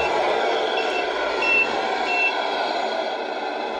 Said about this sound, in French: On a une deuxième petite marche arrière avec le petit beeper.